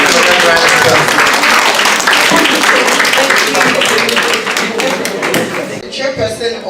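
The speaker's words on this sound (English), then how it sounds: "Let's give another round of applause." Loud, dense audience applause fills a hall at an engineering association's annual conference, holding steady before thinning out near the end with a few voices.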